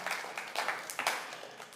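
A church congregation gives a soft, brief round of applause during a sermon, a light patter of scattered claps that stays faint and distant.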